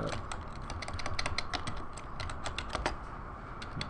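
Steady, fast typing on a computer keyboard while text is entered into a Google Form, a dense run of close, crisp key clicks over faint background hiss, with no voices.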